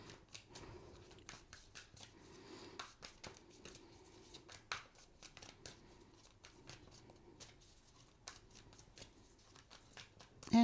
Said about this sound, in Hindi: and the last shuffle